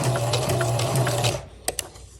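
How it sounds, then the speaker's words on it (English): A sewing machine stitching folded DIY vellum, a steady close whirring run for over a second that stops abruptly, followed by a couple of sharp clicks in the quiet. "And let's start sewing."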